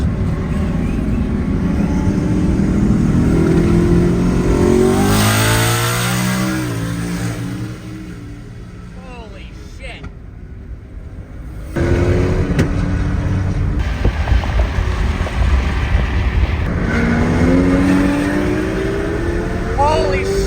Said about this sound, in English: That Corvette is so loud.